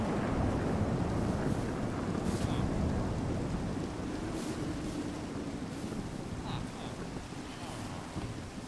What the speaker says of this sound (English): This one changes the sound of thunder, making it more dynamic.